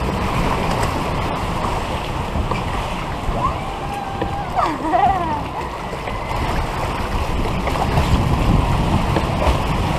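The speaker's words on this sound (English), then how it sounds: "Bumpy log ride." A log flume boat on the Timber Mountain Log Ride at Knott's Berry Farm rushes through water, a loud, steady wash of splashing and churning that fills the whole stretch, with faint voices mixed in.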